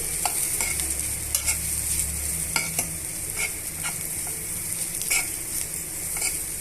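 Vegetable filling with chili powder and coriander powder fries and sizzles in a pan, a steady close hiss broken by repeated scraping stirs of a spatula, with no talking.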